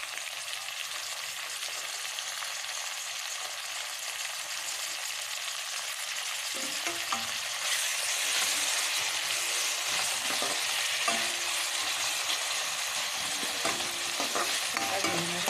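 Tomatoes sauté with salted onions in a pan, giving a steady hissing sizzle that swells louder partway through, with occasional scraping stirs and no talking.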